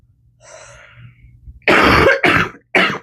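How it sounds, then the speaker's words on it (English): A soft breathy throat sound, then three loud, harsh coughs in quick succession, close to the listener. "Sorry about the coughing, guys."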